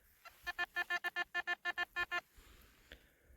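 A metal detector signals over a buried coin with a rapid series of about twelve short, evenly spaced electronic beeps, close and clear, then stops, leaving faint background noise.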